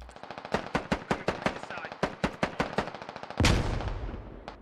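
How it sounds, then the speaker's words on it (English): Rapid bursts of automatic gunfire in the SquadOps military shooter game, a long string of loud, evenly spaced shots followed by a heavier blast that rings out and decays. "Alpha is now running and shooting at the back ranks of U.S. forces"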